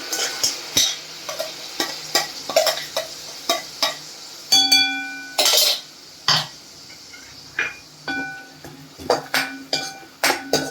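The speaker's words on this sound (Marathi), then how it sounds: "आणि आता कांदा टोमॅटोची प्युरी ती पण आपण छान परतून घेणार आहोत." Onion-tomato puree for matar paneer being sautéd in a pan, with repeated spoon stirs and scrapes against the metal, clinks and a soft sizzle, close and clear with no talking.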